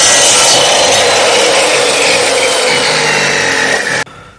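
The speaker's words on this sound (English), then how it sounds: "Okay, so I got mostly cut down to where I can free it up a little bit now with a" A carved wooden handle for a Flexcut knife being cut free with a knife, giving loud continuous rasping, sawing strokes that stop abruptly near the end.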